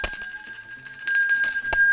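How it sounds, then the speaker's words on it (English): A bell rung repeatedly in a home kitchen during a cooking session, bright ringing strikes recurring in a loose, uneven rhythm, fairly close and clear with no talk over it. "Now, why are you ringing a bell?"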